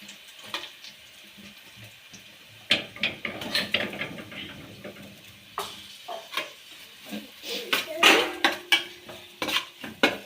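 Grated coconut fries in a pan while a spoon stirs and scrapes against the metal. Irregular clatters and scrapes sit over a light sizzle, close and fairly loud, with no speech.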